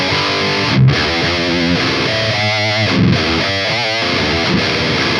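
Heavily distorted electric guitar playing loud, thick chords and sustained notes with rich, saturated overtones and brief gaps between phrases.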